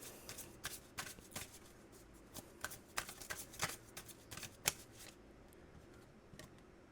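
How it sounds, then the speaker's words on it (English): A tarot deck shuffled in a steady series of close, crisp card flutters and taps, fairly quiet, then settling into near silence as a single card is drawn. "let's take out one more card"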